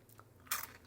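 Crunchy Made In Nature puffed dried fruit snack bitten once up close, a short sharp crisp crunch that stands out after a quiet moment.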